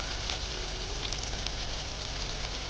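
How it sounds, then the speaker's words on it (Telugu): Chopped onions hit hot oil already frying cloves and cinnamon, giving a dense, steady sizzle and crackle that stays close and even throughout. "ఇప్పుడు కట్ చేసిన ఆనియన్స్ కూడా వేసుకుందాం."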